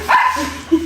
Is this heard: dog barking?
yes